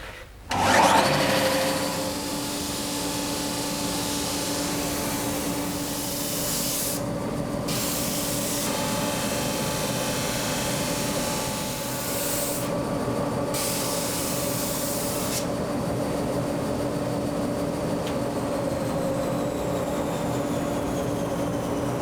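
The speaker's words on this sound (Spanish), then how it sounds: "una vez acabado de lijar la parte interior del aro" Sandpaper working the inside of a wooden drum hoop, a steady, close, continuous abrasive rasp with a few short breaks, lasting over twenty seconds with no talk.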